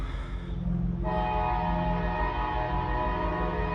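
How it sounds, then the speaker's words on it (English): A train rumbles close by while its horn blares in a long, loud, sustained chord that stays on through to the end. "The train's coming."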